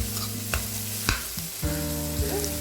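Ivy gourd (tindora) frying in a pan over a high flame, a steady sizzle running throughout with a few sharp stirring scrapes and clinks close by, no voices.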